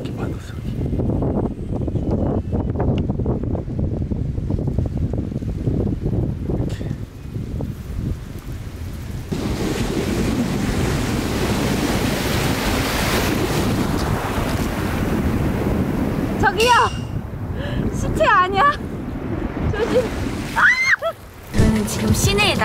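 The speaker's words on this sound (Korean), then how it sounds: "그리고 그 앞에는 이렇게 바다 소리." Ocean waves wash onto a Nha Trang beach under heavy, gusting wind, a continuous surf roar with surges, while a few faint voices come in near the end.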